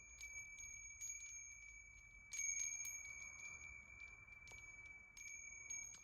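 A metal wind chime stirred by the breeze gives sparse, bright, high tinkling strikes that ring on with long sustained tones over a quiet background, some strikes louder than others.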